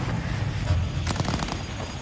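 Rapid bursts of conventional gunfire in Cyberpunk 2077 rattle out in a dense, loud fusillade for about two seconds, with overlapping shots and combat noise and no clear talk.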